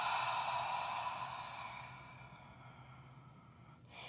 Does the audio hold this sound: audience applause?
no